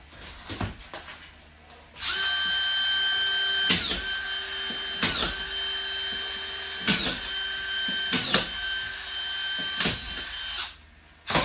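A DeWalt DCF620 cordless drywall screw gun whines loudly and steadily as it drives screws into sheetrock, its motor running in long bursts broken by sharp clicks and clunks as each screw seats.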